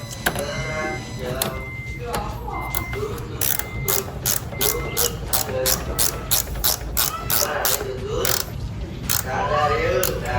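Rapid ratcheting clicks of a wrench tightening a Honda Brio car battery terminal in quick bursts, close and loud, with mechanical rattles and a voice briefly audible beneath.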